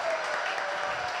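An audience at a live evening show claps in a short, even burst of applause that sounds somewhat distant and soft.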